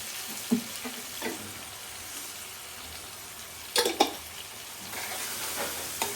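Shrimp masala being stirred in a pan, with a soft steady sizzle under scattered scraping clatters from the spoon, loudest in a few sharp bursts near the middle.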